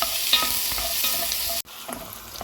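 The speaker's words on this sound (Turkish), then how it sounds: "Soğanımız şöyle güzelce kavrulmaya devam etsin." Chopped onion sizzles steadily in melted butter in a pan, with light scraping clicks from stirring; the hiss drops off abruptly near the end, then resumes more quietly.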